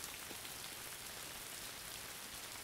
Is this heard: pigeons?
no